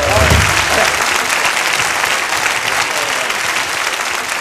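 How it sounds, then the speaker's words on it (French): A concert audience at a children's sing-along show claps loudly and steadily for the performers, a dense continuous applause that keeps up throughout. "il faut applaudir Arnaud et Mathilde très fort."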